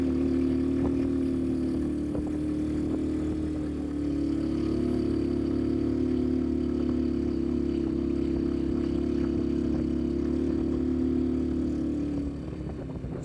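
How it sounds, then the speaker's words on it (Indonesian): A vehicle engine roars steadily while climbing an extreme uphill stretch of a mountain road between Pangalengan and Rancabuaya via Cisewu, a loud sustained drone close by that eases slightly near the end, with no talking. "Mesin si mau sampai meraung-raung begini teman-teman."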